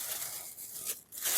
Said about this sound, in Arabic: فهتجيب ازازه التلج وتحطها جوه شنطه بلاستيك